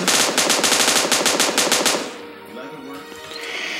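Rapid automatic machine gun fire in the battle royale video game PUBG rattles out in a loud, dense burst of about two seconds, then cuts off into a quieter game backdrop with faint ambient noise.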